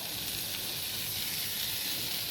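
Ginger paste hits hot oil in a pan while banana flower and coconut ghonto cooks, giving a soft, steady sizzle and hiss that continues evenly without any talking.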